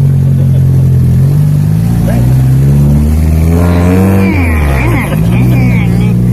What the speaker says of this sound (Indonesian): Kita mau latihan ngedrift dulu ya.